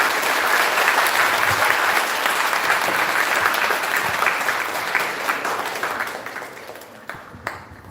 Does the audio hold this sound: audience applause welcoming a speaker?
yes